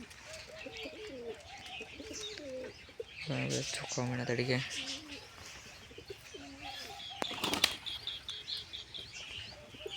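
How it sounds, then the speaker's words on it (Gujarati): Pigeons drying off after a bath, with soft cooing and two loud bursts of wing flapping up close, while someone talks over them. "આ બધા આપણા કબૂતર નાયા છે નાઈને બધા સુકાય છે"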